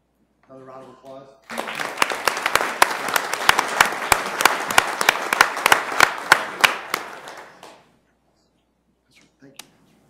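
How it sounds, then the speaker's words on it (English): After a short spoken line, an audience at a community event in the mayor's office bursts into a steady round of applause that lasts about six seconds, then fades out, leaving a few faint sounds near the end. "Another round of applause."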